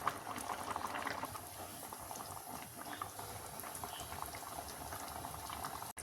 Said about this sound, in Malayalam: ഇതാ മീൻകറിയൊക്കെ ഇതാ തിളച്ച് വന്നിട്ടുണ്ട് കേട്ടോ ഇനി നമുക്ക് സിമ്മിലാക്കിയിട്ട് കുറച്ച് നേരം തിളക്കട്ടെ